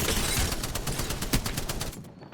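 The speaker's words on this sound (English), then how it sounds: "Shots fired at me." Rapid burst of automatic gunfire in a first-person shooter video game, a dense, loud string of sharp shots fired in quick succession that ends abruptly after about two seconds.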